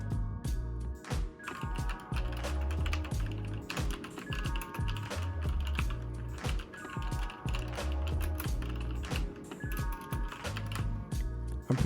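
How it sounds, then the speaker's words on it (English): Continuous typing on a mechanical keyboard with tactile switches, dense rapid key presses with soft thocky clacks, close up, over a faint background tone, no speech. "The keyboard doesn't sound bad or doesn't feel bad at all."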